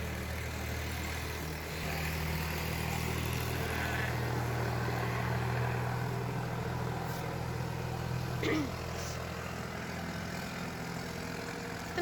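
A tractor engine rumbles steadily outside on a street, a continuous low drone holding throughout at moderate distance, with faint traffic noise around it.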